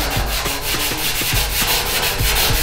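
Steady rhythmic scrubbing of a Scotch-Brite pad across painted metal of a smoker barrel, feathering the paint edge, repeated strokes at a regular pace, close and fairly loud.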